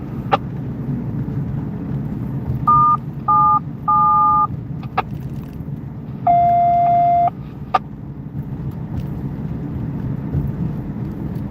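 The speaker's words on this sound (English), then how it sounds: "Want me to dial him up?" Telephone dialing tones from a radio-phone patch during a Union Pacific 4014 steam locomotive chase across Iowa: several short stacked dual-tone beeps in quick succession, then a longer steady tone, over constant road and wind rumble.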